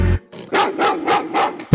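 A dog gives a quick run of about five sharp barks, close and loud, with no other sound between them.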